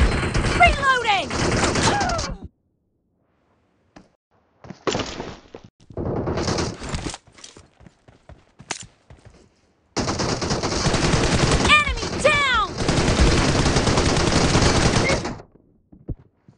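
Automatic gunfire in the mobile battle royale game PUBG Mobile, loud and close in two long bursts with short isolated shots between, overlapping with voices talking.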